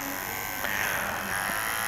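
A Flipkart SmartBuy electric beard trimmer runs with a steady, close, continuous buzzing hum, a slight tonal shift midway as it is handled.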